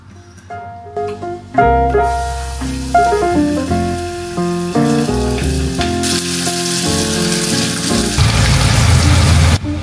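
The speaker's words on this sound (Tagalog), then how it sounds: "Mainit na yung ano ga, mantika. Prito na natin." Breaded food frying in hot cooking oil, a loud, close, continuous sizzle and crackle that swells as more pieces go in, with clinks of a utensil and a melody playing underneath.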